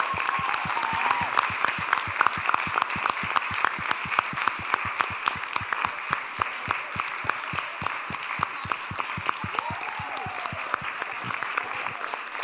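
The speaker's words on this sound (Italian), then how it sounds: "Facciamo un altro applauso." A church congregation in Verona applauds after a musical performance, with steady, dense rhythmic clapping throughout, fairly close and continuous, without talk.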